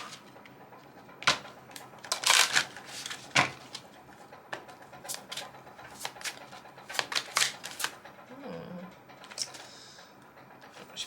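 Oracle cards are shuffled by hand for an angel card reading, a series of close riffling bursts and soft slaps spread irregularly, with a brief murmur of voice near the end.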